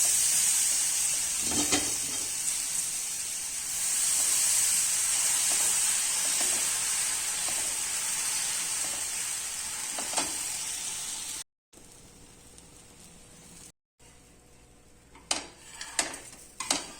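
Rava pudla batter on an oiled hot griddle, a steady bright sizzle and hiss with faint utensil taps, then quieter with a few clicks and scrapes near the end.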